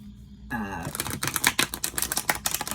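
A deck of tarot cards is riffled and shuffled up close, producing a rapid flurry of crisp flapping clicks.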